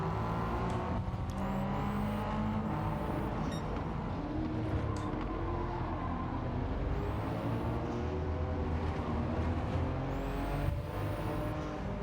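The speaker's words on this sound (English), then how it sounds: "most of the road car engine sound in GT7" A road car engine in the racing video game Gran Turismo 7 drones continuously, its pitch rising and falling through gear changes, with the broad rushing roar of a vehicle at speed.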